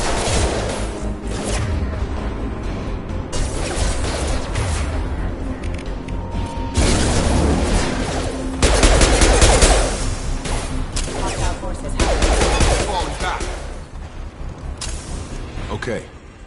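Gunfire and explosions in the Mass Effect 2 video game pop and thud at mid distance under steady combat noise, with bursts of fire rising and falling and a voice speaking over the action.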